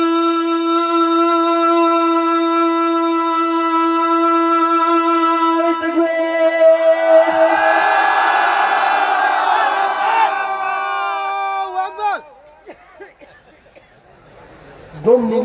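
A mass gathering shouts a takbir chant in unison after a leader's strained, sustained call, a loud swelling roar of many voices that fades out.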